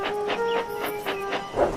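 A steam engine in a Thomas the Tank Engine story puffs steadily, a rhythmic series of hissing chuffs with a faint whistle-like tone underneath, close and fairly loud.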